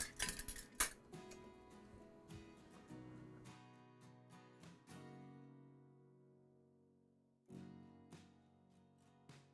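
Baking ingredients for lemon bars being mixed in a bowl, with utensils clinking and scraping against the dish in bursts during the first few seconds, then quieter stirring and a few light taps.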